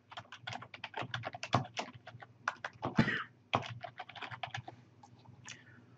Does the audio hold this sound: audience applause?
no